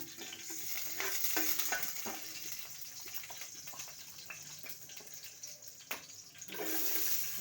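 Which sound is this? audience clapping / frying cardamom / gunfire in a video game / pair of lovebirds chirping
frying cardamom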